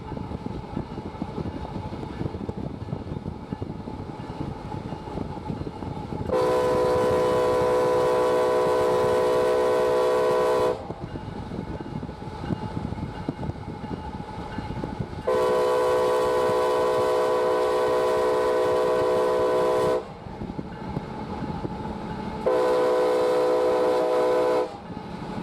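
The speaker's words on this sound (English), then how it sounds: "New York Central painted number 1853 on another empty grain train, G448" CSX empty grain train G448 led by New York Central heritage-painted locomotive 1853, its loud multi-tone horn sounding three long blasts over a steady rumble of the passing train on a rainy line.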